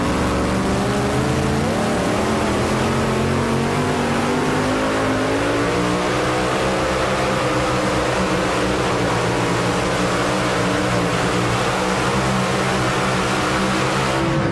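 A heavy pulling-truck engine roars loudly and continuously at a 2007 truck pulling event in Goshen, Indiana, its pitch climbing as it revs hard under strain.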